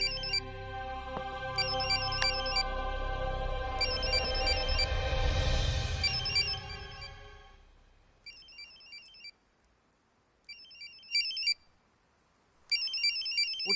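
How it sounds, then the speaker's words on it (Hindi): A telephone rings with repeated electronic trills in short bursts and pauses. The first ring sounds under a loud, swelling musical rumble, and the later rings stand out clearly against near silence. "कोई फोन बज रहा है।"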